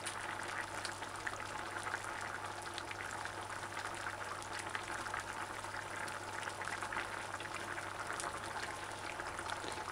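Okra and coconut cream vegetable stew simmers uncovered in a pot, a steady close bubbling and hissing that runs evenly throughout with no talk.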